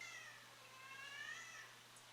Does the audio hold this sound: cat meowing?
yes